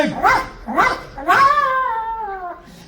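A human voice imitates a dog, giving three barking yelps, the last drawn out into a falling whine.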